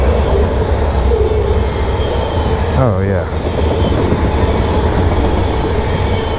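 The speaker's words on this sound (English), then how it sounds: "And caught yourself a train." A mixed freight train of tankers, hoppers and lumber cars rolls past close and loud, with steady wheel rumble and a brief rising squeal, while a person speaks briefly.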